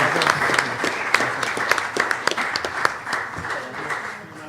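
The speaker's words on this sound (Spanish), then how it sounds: "Un aplauso para el doctor Ricardo Cerda Flores." Audience applauding Dr. Ricardo Cerda Flores at a molecular genealogy lecture, a steady patter of many hands with a few louder individual claps, filling the whole stretch without speech.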